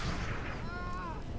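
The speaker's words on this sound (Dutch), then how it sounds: "laat mijn artillerie gewoon half het werk doen" Artillery cannon fire booms in a Napoleon: Total War battle as a dense, continuous rumbling barrage, loud and layered, with a voice speaking faintly over it.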